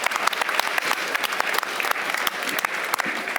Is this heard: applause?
yes